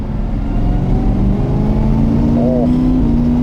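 A Corvette Stingray engine hums steadily and rises gently in pitch as it accelerates slightly, with a voice speaking briefly over the low rumble.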